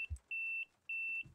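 A bus in a Train Simulator game beeps before departure with its doors still open: two long, steady, high beeps, each about a third of a second, separated by a short gap, loud and clear over a quiet background.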